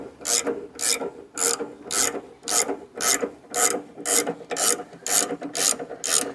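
A blade tensioning wrench is cranked to loosen the blade on a Wood-Mizer LX-25 sawmill, producing about a dozen evenly spaced ratcheting clicks in a steady rhythm, close and clear with no talking.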